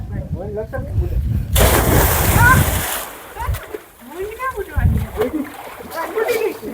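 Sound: water splashing while bathing in a village well

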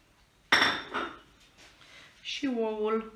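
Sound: mixing butter with rice flour in a bowl

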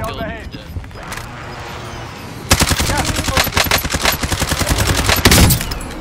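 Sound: Amax gun firing in a video game

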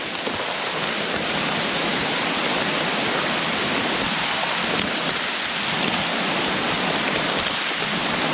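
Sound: rain falling while picking mushrooms

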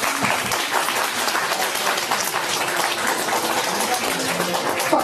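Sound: applause at a dance event

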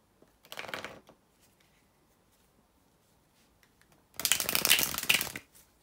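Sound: shuffling tarot cards

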